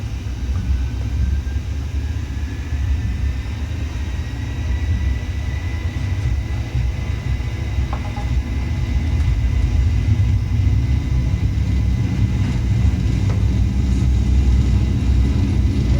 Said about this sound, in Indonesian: sekarang kita coba terbangkan pesawat ini